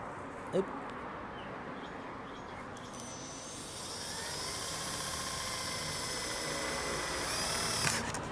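A power drill whirs steadily, its motor pitch rising and holding as it bores into a Toyota Fortuner while a license plate frame is fitted, with a brief knock at the start.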